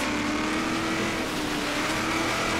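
Nissan Titan Warrior truck sliding through a tight turn in the racing game Forza Horizon 3 on a snowy mountain course, a steady loud engine roar with a sustained whining drone throughout.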